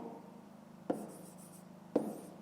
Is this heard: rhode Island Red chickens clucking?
no